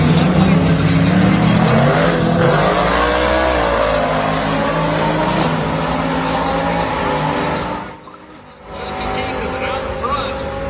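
A 2019 Chevrolet Camaro ZL1 drag races a 1,500hp Audi R8 at a King of the Bakery event in Tulsa, Oklahoma; loud sustained engine roar climbing in pitch under a voice, then a brief dip and renewed engine noise.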